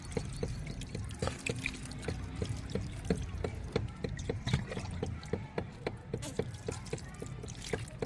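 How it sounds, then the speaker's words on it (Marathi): Water is poured steadily onto tomato plants in a terrace garden, a continuous close splashing trickle with scattered drips throughout. "हर्षदच्या पप्पा पाणी टाकाय मंडळी आपल्या टोमॅटोला"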